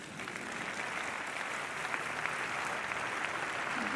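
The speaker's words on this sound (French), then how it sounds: "Donc je pense qu'eux aussi on peut les applaudir" Audience applause fills a hall at a French Army capabilities presentation, a steady dense wash of many hands clapping that holds evenly throughout without voices on top.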